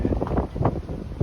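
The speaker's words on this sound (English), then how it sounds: "It's getting really windy." Rough, blustery wind buffeting the microphone, a low rumbling roar with uneven gusts throughout.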